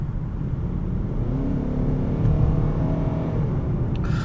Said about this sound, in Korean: 엔진 소리를 한번 들어볼까요? 제가 킥다운을 한 1땀 정도만 해보겠습니다.